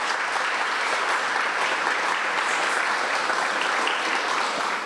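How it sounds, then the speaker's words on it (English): Audience at an annual small business program awards ceremony gives sustained, even applause, a dense room-filling patter of many hands clapping without voices on top. "One more round of applause for our administrator, please."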